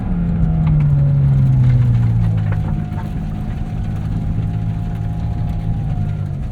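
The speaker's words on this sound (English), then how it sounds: "Unbelievable shriek from that naturally aspirated 4-liter." A 2023 Porsche 718 Cayman GT4 RS with its naturally aspirated 4-liter engine, heard from inside as the revs climb and then ease off to a steadier cruise, loud and continuous with no talk.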